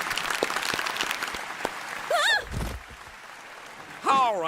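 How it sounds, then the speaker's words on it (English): Scattered clapping fades out after a national anthem and gives way to quieter moments, with exclaiming voices breaking in twice. "Clap it up, chat."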